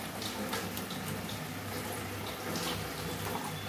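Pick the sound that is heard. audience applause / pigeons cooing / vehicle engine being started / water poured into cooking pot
water poured into cooking pot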